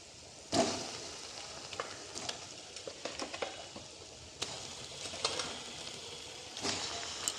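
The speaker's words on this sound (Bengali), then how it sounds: "সমস্ত মশলা একটু কষিয়ে নিয়েছি, আর এখানে আছে 800 গ্রাম চিকেন। এখন চিকেনটা আমি দিয়ে দেবো।" Chicken pieces frying in a pan with sautéed spices for a Bengali-style curry, a steady low sizzle with sharp stirring and scraping bursts from a spoon, close by and without talk.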